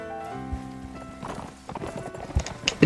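Cavalry clash in a bamboo forest during a large video game battle, with scattered hoofbeats and clattering impacts building into louder bursts near the end.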